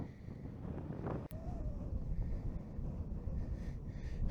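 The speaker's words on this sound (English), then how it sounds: "It's really windy up here." Strong wind buffets a hilltop in Wales near Abergavenny, Monmouthshire, a steady broadband rush roaring against the microphone for the whole stretch with a brief sharp knock partway through, no voices.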